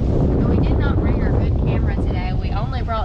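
Wind blowing in off a lake buffets the microphone in loud, steady low rumbling gusts, with a voice talking faintly underneath.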